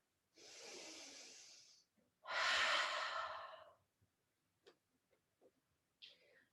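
Slow, deep breaths during a seated chair yoga session: a long inhale and a louder exhale close by, followed by faint small rustles and ticks.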